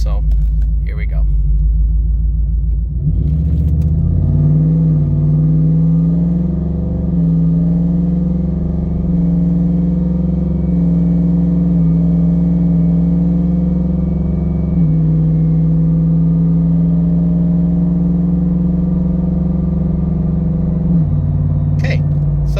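Ford F150 Gen 3 turbo pickup truck pulling away from a full stop, a loud steady engine rumble climbing through gentle acceleration with subtle shifts, someone talking briefly at the start.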